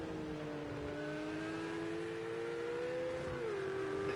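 A Ferrari race car engine revs steadily while racing on the Snetterton circuit in Project CARS 2, a sustained high whine that climbs gently and then drops as the gear changes, with no talking.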